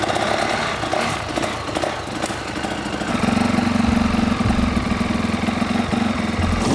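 A turbocharged dirt bike engine runs steadily close by, its rough mechanical drone rising to a louder, fuller roar partway through and holding there.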